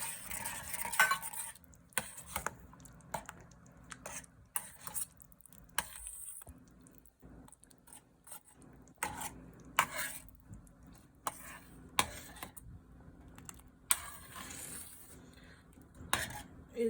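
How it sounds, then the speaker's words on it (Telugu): A spoon stirs half a cup of sago with sugar in a metal pan, giving soft, irregular scrapes and clinks in short bursts separated by quiet pauses, close and faint. "షుగర్ కరిగేంత వరకు తిప్పుకుంటూ కలుపుకోవాలి"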